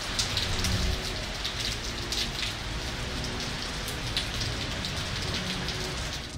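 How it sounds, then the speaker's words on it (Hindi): Heavy rain pours steadily on surfaces in Rawalpindi during days of downpour, a dense, continuous close hiss with no voices. "रावलपिंडी में गुज़श्ता 3 रोज से बारिशों का सिलसिला जारी है"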